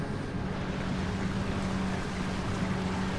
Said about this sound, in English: This submarine shows up later in the game too, so it's best to get used to driving it.